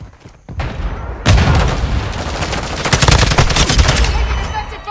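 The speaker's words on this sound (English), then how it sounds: "Taking effective fire." Dense gunfire from the Modern Warfare 2 video game, with a TAQ 56 rifle in a Hardpoint match on the Black Gold map. Loud, continuous rapid bursts and booms start after a brief quiet opening and run without a break.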